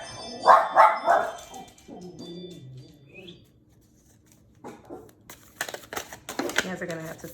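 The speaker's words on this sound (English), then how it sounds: "I got my puppies with me." Puppies yip and bark close by in a short burst at the start, followed by paper rustling and a person speaking.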